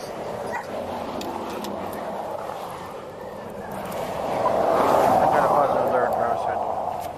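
A police dog yips, whimpers and barks excitedly while searching a stopped vehicle, the sounds mixed with road noise and nearby talk.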